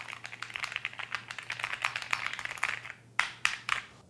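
Keys clatter on a heavy metal-bodied Keychron Q6 Max wireless mechanical keyboard, a close run of quick, crisp clacks in an uneven rhythm, then a short pause and a few sharper, separate presses, with no voices.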